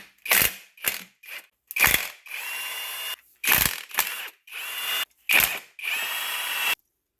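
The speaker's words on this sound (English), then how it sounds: "I'm going to counter hold these nuts while I loosen the blank starter location" A power tool works a 16mm nut and an E12 bolt at the starter location of a BMW E46 during a V8 swap, in repeated short whirring bursts with sharp starts and brief pauses, several running longer, close and loud.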